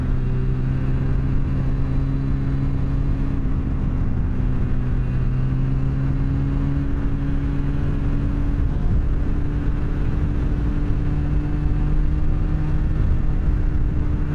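Cars speeding at about 65 mph on a highway with a 45 mph limit make a continuous, loud rumbling drone with a steady engine hum and no pauses.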